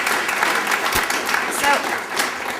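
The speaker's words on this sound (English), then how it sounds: "If you might give a great round of applause." Audience applause at the launch of a TreePeople center, broad and steady clapping filling the space, with a brief spoken word near the start.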